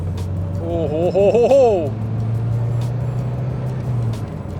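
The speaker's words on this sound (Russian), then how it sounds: "Вот смотри, мотор." A six-wheeled car's motor drones steadily close by, with a brief revving swell early on as a man exclaims over it.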